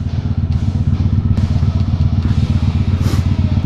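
A heavy cruiser-style motorcycle engine rumbles loud and close with a steady, pulsing low throb, accompanied by rattling clatter and wind buffeting, with no talking.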